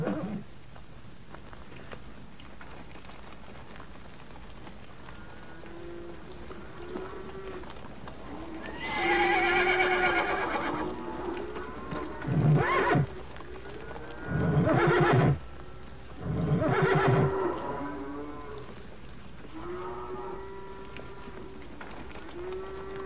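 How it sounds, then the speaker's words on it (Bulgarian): Horses and livestock being driven off in a western film scene: several loud horse whinnies stand out over a low background of hooves and movement, with a couple of sharp bursts near the middle. "Ей, Джулай, закарай им добитъка и двата коня."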